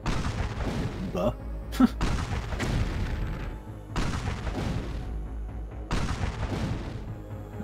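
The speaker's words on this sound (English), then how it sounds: "Well, the artillery does work." Artillery fire in the game C&C: Red Alert Remastered: repeated deep booms and blasts over a constant low rumble, recurring every couple of seconds while someone talks over them.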